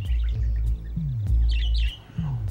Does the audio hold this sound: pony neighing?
no